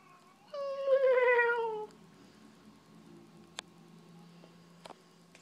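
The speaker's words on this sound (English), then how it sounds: "this is a video of JDougies' cat because he's weird" A cat gives one drawn-out, wavering meow up close, followed by quiet room sound with a couple of faint taps and clicks.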